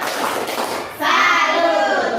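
A group, likely children in a classroom, breaks into a sustained salute clap, dense overlapping claps filling the room loudly after a brief lead-in of voices.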